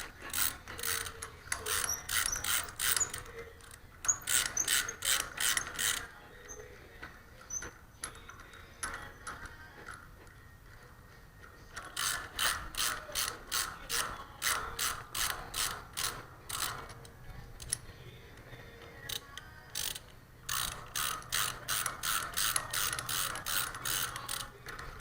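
A ratchet handle is cranked in quick runs of sharp, evenly spaced pawl clicks, pausing between bursts and resuming, close and distinct with no talking.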